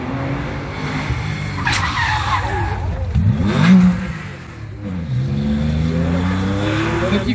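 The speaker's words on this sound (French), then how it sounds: "Petit freinage délicat pour l'équipage espagnol" A rally car competing on the first special stage of the 2023 Rallye du Chablais, driven by a Spanish crew, brakes hard. The engine note drops, the tyres skid briefly, then the engine picks back up, loud and close, with no talk.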